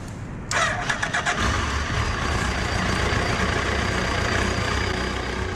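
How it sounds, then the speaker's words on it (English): Motorcycle engine starting after RFID authentication, a brief crank that catches and settles into a steady, loud idle, heard up close with no talking. "So when I authenticate, the bike powers up."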